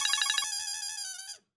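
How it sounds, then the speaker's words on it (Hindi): Phone ringtone of an incoming call, a bright electronic melody that opens with rapid pulsing notes, then holds a sustained tone and cuts off abruptly after about a second and a half. "लो, उसी का फोन आ गया।"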